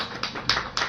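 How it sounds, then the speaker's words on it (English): Three sharp hand claps, spaced unevenly, from a speaker showing how devotees clap while cheering for Radha and Krishna during a Harikatha talk in Bhuj. "They are all clapping like this."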